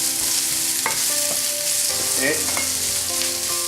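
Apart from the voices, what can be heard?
sliced onion frying with garlic and ginger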